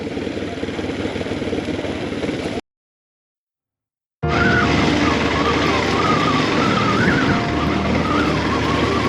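A motorcycle engine drones steadily with wind rush while riding toward Cap d'Ambre, Madagascar, cutting out briefly to silence before resuming, loud and continuous.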